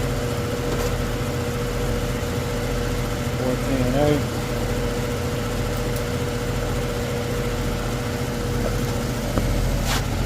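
A Goodman AC condenser fan runs with a steady low drone and hum while the unit is not cooling and its compressor is not running. A voice briefly murmurs partway through.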